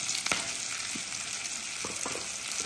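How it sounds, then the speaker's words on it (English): Chopped onion sizzles gently in a pan with chiles for chiles toreados, with a few soft scraping stirs over a steady quiet frying hiss. "Now we're gonna add in the onion. Yeah, gonna mix that in a little bit."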